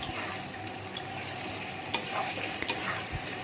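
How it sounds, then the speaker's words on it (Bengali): Beef fat frying over a low flame for Bengali ghugni, with garlic and ginger paste in the pan, gives a steady soft sizzle with a few utensil scrapes and taps from stirring. "চর্বিগুলো হালকা আঁচে ভাজতে হবে"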